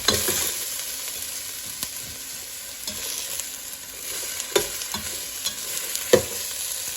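Butter sizzles in a pot for Maryland oyster stew, a steady close crackle broken by scraping stirs and sharp utensil knocks against the pot.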